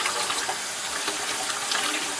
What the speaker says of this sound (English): I usually like to start off with hot water.